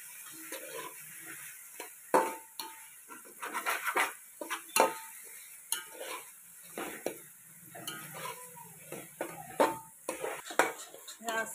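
Onion and tomato masala for egg biryani is stirred in a pot with clattering spoon-on-metal knocks and scrapes in an uneven rhythm over a faint sizzle, close by.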